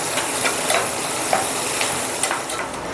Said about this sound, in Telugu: ఇవి కొంచెం ఎర్రగా వచ్చేలాగా వేగించుకోవాలి